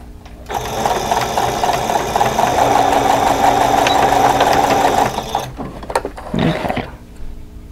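A sewing machine stitches a fabric face mask with a steady, loud mechanical whir that runs unbroken for about five seconds, then stops abruptly, followed by a few brief handling clicks.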